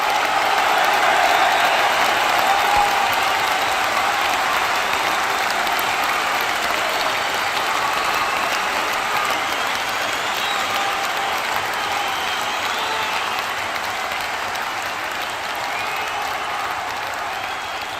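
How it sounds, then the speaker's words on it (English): A large wrestling event crowd applauds steadily and loudly in an ovation, a dense wash of clapping that holds for the whole stretch with a faint cheer early on. "You hear the crowd giving him that ovation here tonight."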